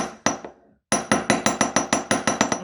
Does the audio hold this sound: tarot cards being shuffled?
no